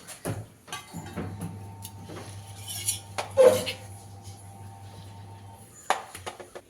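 Spoon clinking and scraping in a bowl while salt, chili, turmeric, pepper powder and coconut oil are mixed together, with scattered metallic taps and a faint hum underneath.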